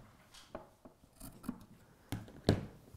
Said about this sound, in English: just push the fabric round and snip in